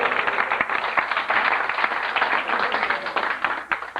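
Applause from the audience at a 1984 standup comedy show, a loud, dense wash of clapping hands that holds steady throughout, with no voices over it.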